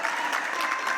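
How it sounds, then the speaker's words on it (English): Steady applause from an audience at an awards ceremony for a homelessness conference, dense and continuous throughout without a break. "Can you all give them a big round of applause?"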